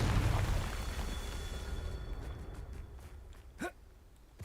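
A Confringo spell blast goes off at the start, cast at stones during a Merlin trial in Hogwarts Legacy. It is a loud, booming burst that fades into a quieter ambient hum, followed by a short whoosh near the end.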